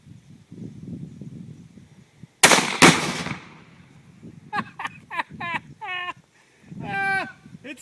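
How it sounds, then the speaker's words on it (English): A sharp, loud blast from a target shot with a Thompson Center Dimension rifle in 204 Ruger rings out once and fades, surrounded by quieter outdoor noise and cattle mooing in the distance. "Now let's blow some stuff up. Time for the explosion."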